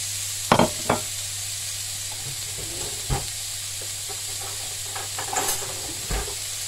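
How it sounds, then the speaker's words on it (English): Bacon slices dry frying in a pan with no oil give a faint, steady sizzle and hiss, broken by a few sharp clicks and scrapes as the strips are stirred. "all what we're going to do is dry fry our bacon for a couple of minutes."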